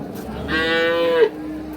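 A single loud, drawn-out moo from a Holstein Friesian cow close by at a farm, rising then breaking off abruptly, over quiet background.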